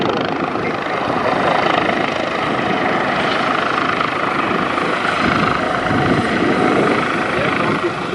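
An H145 helicopter flies at the RAF Valley Family Day display, its loud rotor and engine roar continuous and close, with a commentator talking over it.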